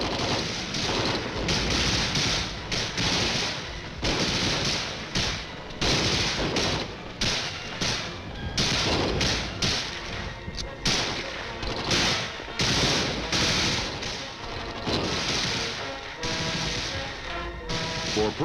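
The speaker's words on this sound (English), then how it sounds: "The M14s on full automatic fire from the hip in short bursts" M14 rifles fire on full automatic from the hip in short, sharp bursts, volley after volley of loud gunfire filling the scene with barely a pause between them.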